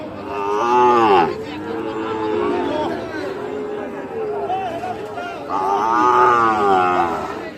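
Cattle at a livestock market where Sahiwal bulls and calves are sold, with loud close moos rising twice over constant crowd chatter and people talking nearby.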